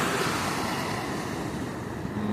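Sea waves washing ashore under steady wind, a continuous close roar of surf with wind buffeting the microphone, no voices.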